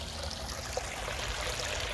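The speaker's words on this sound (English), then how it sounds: "Running water." A clear stream runs through Old Roar Gill in Coronation Wood, producing a soft, steady rush and trickle of water that stays fairly quiet and even throughout, with no talking.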